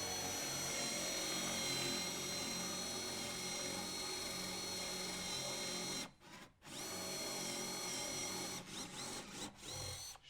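A Festool drill bores a hole with a Forstner bit in a workshop, giving a steady, loud whine that drops out briefly midway and stutters in several short breaks near the end.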